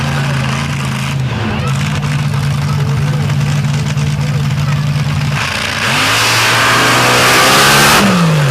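A blown alcohol paddle tire drag car engine, loud and close, holds a steady rumbling rev and then climbs sharply into a roaring acceleration, with a commentator talking over it.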